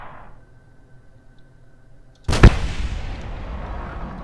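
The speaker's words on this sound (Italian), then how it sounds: "mi sono fatto esplodere da solo" A cannon blast in the BDArmory mod for a video game sounds as a sudden loud explosive boom that follows a quiet hum and then rolls off into a long, fading rumble.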